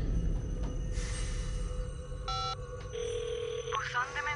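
A phone call rings out through a handset, tones and an electronic ringback pattern sounding over background room noise before an automated voicemail message begins.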